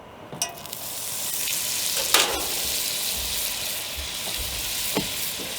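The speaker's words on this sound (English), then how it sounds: "Put a little bit of oil in here, and I'm going to do like some of the guys I saw yesterday, put some butter in right up front here" Oil and butter sizzle steadily in a cast iron skillet, a broad continuous hiss with a few brief crackles and pops, close and fairly loud with no talking.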